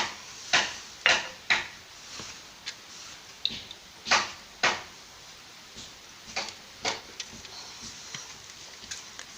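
Small plastic clicks, taps and knocks come close up and irregular as a circuit breaker is fitted back into a fruit juice blender, with quiet scraping between the sharper snaps.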